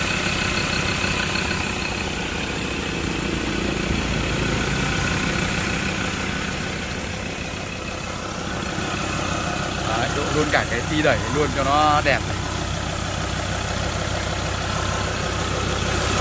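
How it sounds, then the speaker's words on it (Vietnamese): A 2015 Ford Wildtrak 3.2 pickup truck with automatic four-wheel drive idles with a steady, loud engine drone, under someone talking through most of it. "Trong đây là động cơ đây anh em nhìn này"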